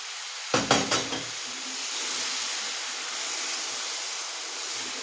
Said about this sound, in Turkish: Ve şöyle güzelce helvamız şerbetini çekene kadar kavurmaya devam ediyoruz.